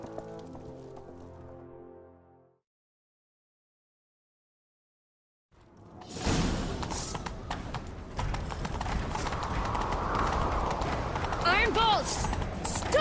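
Horse hooves pound at a gallop in The Witcher 3: Wild Hunt, a dense rapid clatter after a short musical lead-in and silence, loud and close with game ambience layered underneath.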